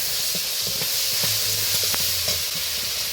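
Turmeric and ginger paste frying in a pan, a steady loud sizzle with scraping stirs and small pops throughout, with no talking.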